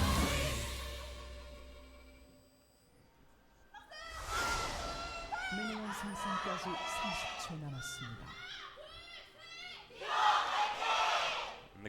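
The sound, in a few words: crowd cheering at a League of Legends match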